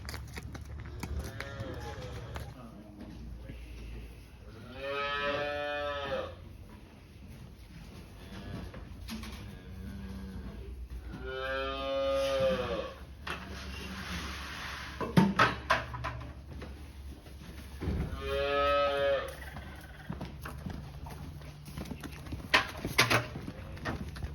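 Calves in a calf barn moo in several long, loud bellows spaced a few seconds apart, with a steady low barn hum and faint bird calls in the background.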